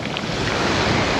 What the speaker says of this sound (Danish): Prøv at se nogle bølger, der kommer ind.